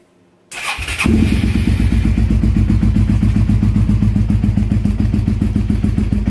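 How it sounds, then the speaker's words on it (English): A 2002 Suzuki SV650S motorcycle cranks briefly in a cold garage, catches, and settles into a loud, steady, close-up idle with a rapid lumpy V-twin pulse and no talking. "I'll give it a start here and see if we can get some sound out of it"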